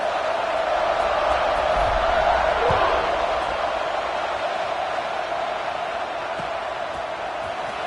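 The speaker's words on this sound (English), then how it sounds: "this crowd now ready to get behind them" Football stadium crowd at a college game between Alabama and USC roars in a steady, loud wash of cheering just before kickoff, with a broad continuous din and a few louder swells.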